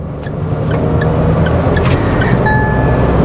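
Mahindra XUV300 turbo petrol engine pulling steadily through the mid-range, a continuous loud drone heard from inside the cabin with no talking.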